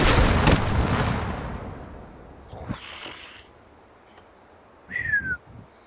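A loud artillery blast in a video game opens with a sharp crack and a long decaying boom, then a few fainter thuds and a brief whistling tone follow; no talking.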